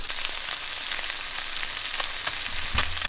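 Rock bass fish fillets fry in a skillet with a steady, close hiss of sizzling oil, broken by small crackles and pops and a brief louder spatter near the end.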